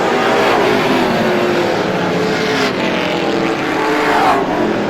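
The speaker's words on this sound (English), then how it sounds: "Griffith has now lapped the 9th place automobile." Race cars lapping at Star Speedway during a GSPSS 100 race, a loud continuous roar of engines blending together without letup, close and steady throughout.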